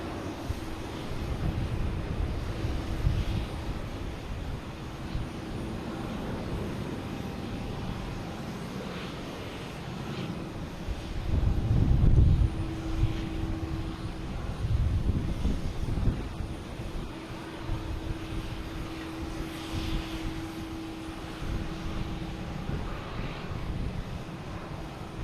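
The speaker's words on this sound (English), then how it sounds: "We got Spirit Airlines here heading to Fort Lauderdale." A Spirit Airlines Airbus A321 jet at Boston Logan Airport, a sustained engine roar with a steady whine, swelling midway as it passes, then holding at a moderate distance.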